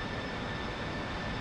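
An aircraft engine throttles up in DCS World, a loud continuous broadband roar with a faint steady whine, filling the short moment without any break.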